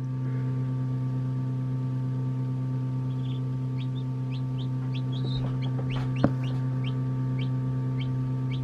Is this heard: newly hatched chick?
yes